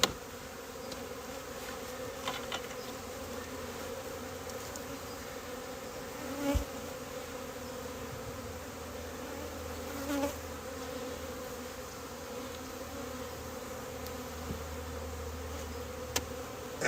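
A steady drone of many honey bees buzzing around a hive during inspection fills the air without pause, fairly faint and constant, with no voices and only occasional soft knocks.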